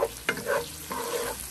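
Shrimp fried with spices and salt, being stirred in a pan: brief sizzling with quick scraping stir strokes, close and moderately loud, no voices.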